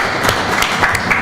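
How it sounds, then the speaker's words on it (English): A small group applauds Harun Rashid at a social business design lab session, a brief patter of scattered, distinct hand claps close by with no speech. "we give him a big applause for the Harun Rashid."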